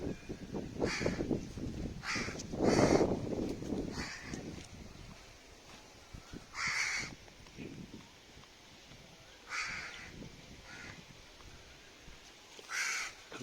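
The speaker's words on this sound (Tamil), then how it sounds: "காக்காலாம் வந்து கத்துது" Crows caw repeatedly near a sapodilla tree, harsh calls coming in separate bursts every few seconds at moderate distance over faint outdoor background noise.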